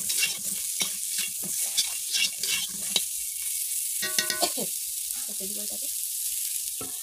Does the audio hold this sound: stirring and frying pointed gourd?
yes